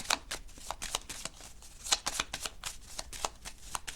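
Playing cards are handled close up on a table, giving a quick series of soft, crisp card snaps and flicks resembling shuffling, fairly quiet with no talking.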